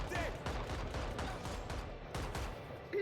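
Rapid gunfire in a video game, a dense run of sharp shots in quick succession, close and loud, with brief voice sounds poking through.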